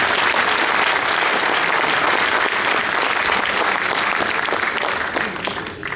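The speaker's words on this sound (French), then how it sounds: "on peut les applaudir parce qu'ils font un bon travail." A crowd applauds during a mayor's New Year address, with steady, dense clapping from many people filling the room for the whole span and easing slightly at the very end.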